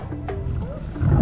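A wild lion gives a short, low roar that rises in pitch, with a rumbling undertone that swells toward the end. The sound is loud and close, and no speech can be heard.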